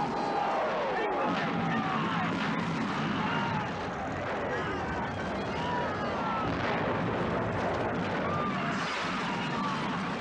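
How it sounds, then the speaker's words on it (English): Artillery fire in a World War I battle scene from the film All Quiet on the Western Front: dense, continuous rumbling blasts and whistling shells fill the sound, loud and chaotic, with voices and shouting mixed in. "they're getting attacked by enemies artillery or their own artillery."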